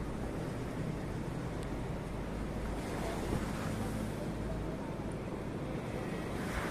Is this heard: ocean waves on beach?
yes